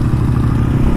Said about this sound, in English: Maybe, you think you have an exhaust leak or something?